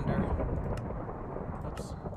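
Thunder in Minecraft rolls as a steady, loud rumble that fills the whole stretch, deep and continuous with a couple of brief brighter crackles.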